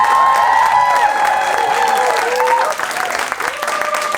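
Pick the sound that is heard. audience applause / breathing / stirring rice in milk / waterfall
audience applause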